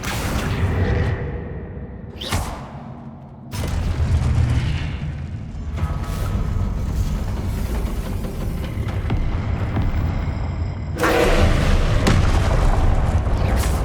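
Explosive spell blasts in the video game Hogwarts Legacy: loud booming bursts with whooshing tails, one sharp blast near the start and another heavy surge late, over continuous roaring game ambience.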